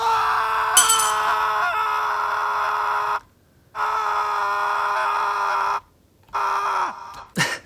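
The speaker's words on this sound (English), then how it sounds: "the scream just goes on forever" A long, loud, sustained scream sound effect plays back in Premiere Pro, holding a steady harsh tone in three long stretches separated by brief silences, ending in a short falling cry.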